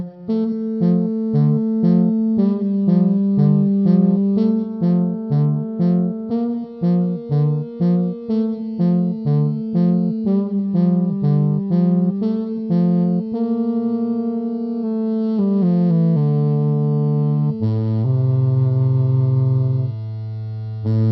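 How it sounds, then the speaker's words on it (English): Guitar run through a freeze pedal: picked notes and chords repeat in a steady rhythm, then one note is captured and held as a sustained drone while more playing continues over it, with distortion and effects, no talk. "if I play a note and I hold the pedal, all of a sudden I get the frozen sound held out."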